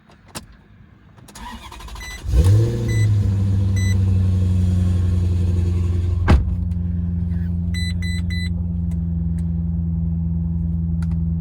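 A Ferrari-powered salvage auction car cranks briefly, fires up and settles into a steady, close, rumbling idle that continues to the end, with one sharp knock partway through.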